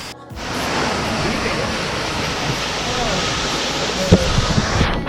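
Water flows steadily at a natural swimming pool in Nongriat, Meghalaya, a constant near rushing roar, with a brief voice near the end.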